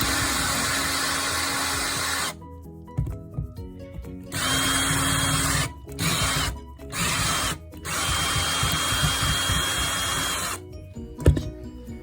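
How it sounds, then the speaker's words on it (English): A power drill backs out the screws on a light switch plate, whirring loudly in several bursts of a few seconds each, with short pauses between them and a brief sharp clack near the end. "we'll start by unscrewing these pieces"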